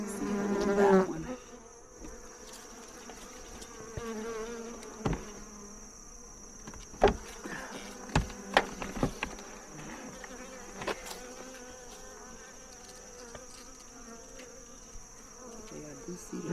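Honeybees at a hive during a queen check, buzzing steadily close by, with individual bees droning past and scattered soft clicks and knocks from handling the frames.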